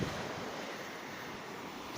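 Strong ocean surf pounds a windy beach at Burgos, Pangasinan, a dense continuous roar mixed with wind buffeting the microphone, close and steady with no speech.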